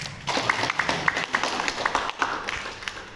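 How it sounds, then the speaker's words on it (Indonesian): An audience at a regional government press conference marking the Malaka regent's first 100 days claps for a former team head: a fairly faint patter of many hands with a few sharper, evenly spaced claps standing out. "Silakan berikan aplaus tepuk tangan"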